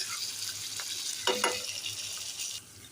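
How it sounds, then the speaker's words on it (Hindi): Stuffed tinda, a round gourd, sizzling in hot ghee, a steady soft frying hiss with a brief louder crackle and stirring clatter midway. "इस तरीके से इसको इस घी के अंदर फ्राई कर लें"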